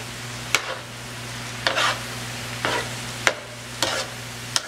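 Soya chunk pasta with Chinese seasoning is tossed in a pan: about five or six sharp scraping, sizzling strokes in an irregular rhythm over a low steady hum.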